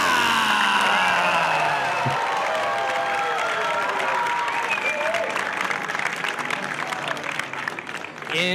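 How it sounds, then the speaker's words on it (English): At a National Squash League season opener, a crowd applauds and cheers as Omar Mosaad of the Atlanta Tornadoes is introduced, loud sustained clapping with whoops and shouts, steady throughout and fading slightly near the end. "Please give a round of applause to"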